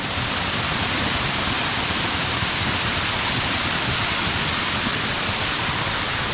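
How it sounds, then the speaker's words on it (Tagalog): Kaparkan Falls, a small waterfall in Abra, roars as a steady, loud, broadband rush of falling water that continues unbroken throughout, with nothing else audible above it. "mayroong small falls pa dito"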